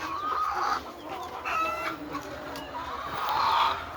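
Hens cluck and squawk in short bursts inside a poultry house, several birds calling near and loud over a low background hum, with no talking.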